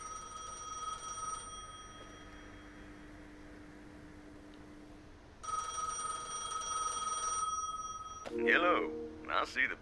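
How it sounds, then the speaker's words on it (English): Electronic telephone ringing at a gas station in Gas Station Simulator, two long steady rings separated by a pause, then a short chirpy game sound at the end. "We'll have to answer the phone."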